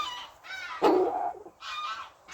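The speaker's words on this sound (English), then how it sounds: "My neighbour's geese making a racket" Geese in a neighbouring yard near a cabin honking in loud, harsh bursts, with a strong central call and shorter calls before and after, fairly close.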